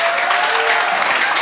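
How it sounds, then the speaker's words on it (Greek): Loud, sustained applause from a theatre audience at a live stage comedy show, dense crowd clapping filling the whole moment, with a faint tonal whistle running through it. "Δώστε μου και ένα χειροκρότημα"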